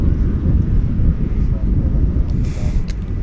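Airbus A350-1000 airliner departing DFW Airport for Doha, a steady broadband jet roar with strong low rumble, sustained and fairly loud throughout with wind buffeting the microphone.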